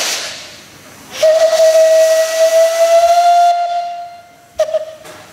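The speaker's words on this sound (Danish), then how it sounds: "Vi prøver at hive lidt i fløjten, så vi kan høre den." A steam locomotive's whistle blows at a Danish railway museum steam-days event: one loud, sustained, slightly rising tone with hissing steam, followed by a brief second short toot.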